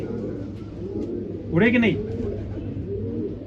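A dab pigeon gives a single rising coo over a background of other birds, close by, while someone talks over it.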